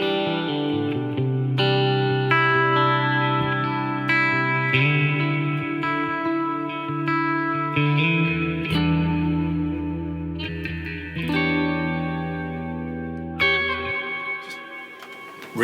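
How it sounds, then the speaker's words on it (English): Notes and chords run through the reverb of a Strymon Flint effects pedal, each swelling into long, smooth, washy tails that ring on and overlap before the next note, with no talking. "Really beautiful reverb sound"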